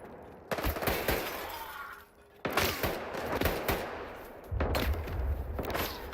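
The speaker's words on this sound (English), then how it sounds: "Why are they shooting me through a wall?" Sustained gunfire from the video game S.T.A.L.K.E.R. 2: dense automatic bursts and heavy cracking shots in loud waves, with a brief lull in the middle before the barrage resumes, and no talking.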